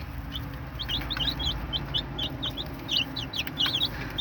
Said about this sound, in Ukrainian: Такі є різні курчатка.